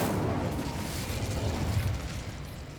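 A fiery Incendio spell blast from the Hogwarts Legacy video game on PS5 roars as a dense, sustained whoosh of flame. It stays loud and steady with low rumbling throughout, and no voices are heard.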